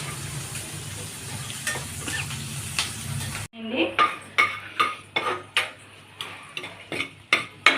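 Spice tempering for buttermilk stew crackles and sizzles in hot oil for a few seconds, then a spoon taps rhythmically against the metal pan.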